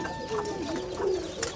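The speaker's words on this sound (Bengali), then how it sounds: "আমার চারপাশে কিন্তু কবুতর, আমার মাথার উপরে কবুতর, আমার পায়ের সামনে কবুতর।" Pigeons coo at a pigeon farm, with several overlapping low, throaty coos rolling on continuously at moderate volume, close by, and no talk over them.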